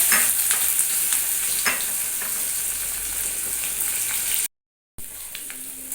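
Chopped onion and black cumin seeds fry in mustard oil over a medium flame, a close, loud, even sizzle with crackles and stirring, briefly cut to silence near the end before resuming.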